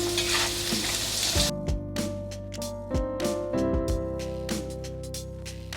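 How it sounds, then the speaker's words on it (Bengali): Potatoes frying in a pan with salt and turmeric, a loud close sizzle that drops back after a moment, followed by repeated scraping stirs and clinks against the pan over continued frying. "ওই জন্যে লবণ হলুদ দিয়েই আলুটা ভেজে নিচ্ছি"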